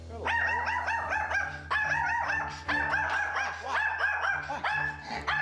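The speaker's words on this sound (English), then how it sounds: "hearing Jake's frustration barking" A tiny dog barking in frustration, rapid high-pitched yips and barks in repeated bursts, loud and close over a low steady hum, with no talk.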